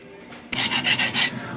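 Copper pipe being scrubbed clean for sweat-soldering on a bathroom drain repair: five quick, close abrasive rasping strokes in a steady back-and-forth rhythm after a brief quiet moment.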